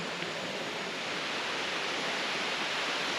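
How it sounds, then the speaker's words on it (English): A small waterfall runs down a hillside in a Thai rainforest botanic garden, a steady, even hiss of falling water with no breaks, fairly soft and continuous throughout. "Oh, waterfall. This is a small one running down the hill."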